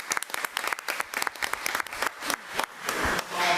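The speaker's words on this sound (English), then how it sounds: "Finnegan a round of applause." At a school district committee meeting, the room gives Mr. Finnegan, a music director, a round of applause: a burst of many hands clapping close and loud, with a few voices rising beneath it toward the end.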